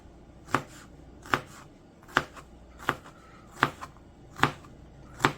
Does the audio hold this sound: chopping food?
yes